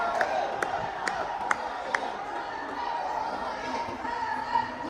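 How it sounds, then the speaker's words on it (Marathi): Dense crowd of pilgrims packed inside Ujjain's Mahakal temple, a continuous near roar of chatter and movement with a few sharp claps or knocks standing out early on. "आता गर्दी एकदम प्रचंड वाढली आहे"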